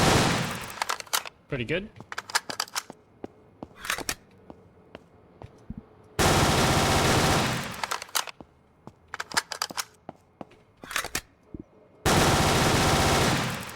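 Close SMG fire in the video game ANEURISM IV, with a few short bursts and then sustained loud full-auto streams, interspersed with single rapid shots, while someone briefly talks between them.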